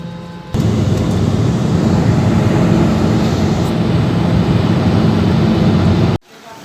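A passenger airplane takes off, a loud, steady roar of engines and rushing cabin noise that starts abruptly and holds evenly before cutting off.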